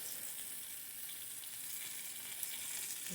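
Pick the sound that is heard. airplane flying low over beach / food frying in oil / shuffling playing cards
food frying in oil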